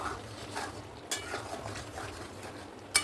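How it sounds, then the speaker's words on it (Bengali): Sour yogurt is stirred into chicken resala in a pan on low heat, a soft continuous mixing swish with two sharp clinks of a spoon against the pan, close and quiet. "এবার আমি এর মধ্যে একটু টক দই দিয়ে দেবো। একটু ভালো করে সাথে মিশিয়ে নেব।"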